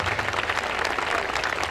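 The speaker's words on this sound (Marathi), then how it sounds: "जोरदार टाळ्यांचा कडकडाट त्यांच्यासाठी." Audience clapping at a school annual day function, a brief dense burst of applause from a hall crowd.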